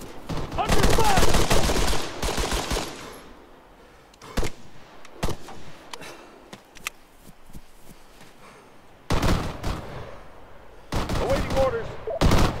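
Gunfire in the video game Arma 3, with loud bursts of rapid shots at the start and near the end and isolated single cracks in between, set over quieter battlefield ambience.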